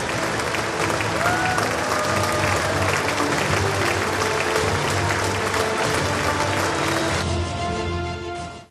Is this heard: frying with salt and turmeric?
no